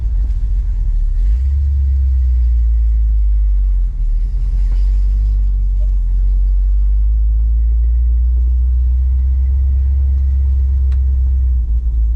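A deep, steady V8 exhaust rumble from a 1965 Dodge Coronet 440 with no tailpipes idles close by, low and throaty, with a slight rev swelling around the middle and no voices.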